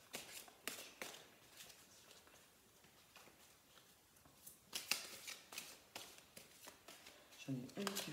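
Tarot cards shuffled and drawn, soft close riffles and flicks in irregular bursts, quiet at first and then busier, with a light tap as a card is set down.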